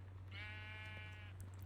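A sheep in Minecraft gives a single clear bleat, a short wavering cry lasting about a second over a steady low background hum.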